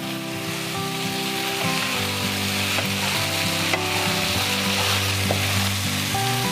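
Beef stir-fry with edible flowers crackles in a hot pan, a steady loud sizzle with spatula stirring and scraping close by, no voices present.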